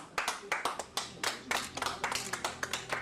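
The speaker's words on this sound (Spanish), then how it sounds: "¿Me aplauden?" A crowd of people clapping, rendered as a fast irregular stream of sharp hand claps at moderate level, with no talking over it.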